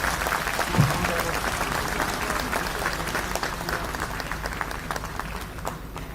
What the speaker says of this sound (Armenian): ես խնդրում եմ իրեն էլ բուրըն ծափերով ողջունել